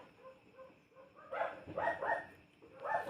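Several dogs barking at a neighbour's house, heard from a distance as a few faint, muffled bursts of barks with a quiet background between them.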